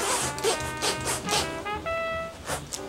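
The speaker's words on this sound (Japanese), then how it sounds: "エクセラという YKK の中でも高級なカバンに使われるようなファスナーなので、" A gold YKK Excella zipper slides on a custom-made leather jacket, giving a steady series of close, smooth zipping strokes at a quiet level with no voices.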